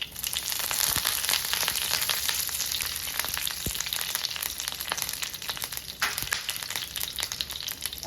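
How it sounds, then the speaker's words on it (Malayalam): Mustard seeds crackle and pop in hot oil for a Kerala-style tomato fry as curry leaves go in, a dense, close sizzle with sharp irregular snaps and occasional stirring scrapes, no voice. "കടുക് പൊട്ടി വന്നിട്ടുണ്ട്. അപ്പോഴത്തേക്കും നമുക്കൊരു സ്വല്പം വേപ്പില ഇട്ട് കൊടുക്കാം."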